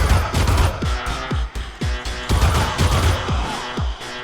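Rhythmic gunfire from the video game All Walls Must Fall, timed to the music, with repeated punchy bursts landing on a steady beat over a loud electronic backing track, close and prominent, with no speech.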